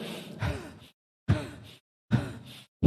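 A human voice imitating heavy panting after climbing a hill: three loud, breathy gasping exhalations with short silent pauses between them, close to the listener.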